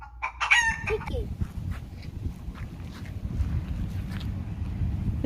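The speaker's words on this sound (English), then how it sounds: "Look at the chicken." A rooster crows loudly at the start, a rising then wavering cock-a-doodle-doo, followed by a few short clucks and a steady low background rumble for the rest of the stretch.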